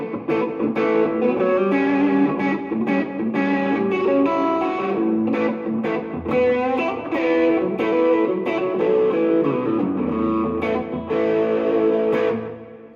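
Electric guitar played through slapback delay and reverb pedals, a continuous run of picked notes and chords with short echoing repeats and a wash of ambience, loud and steady without any talking.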